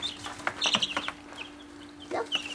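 Backyard chickens, a flock of eight, give soft scattered clucks and chirps in short bursts near the coop at night, with quiet pauses between calls.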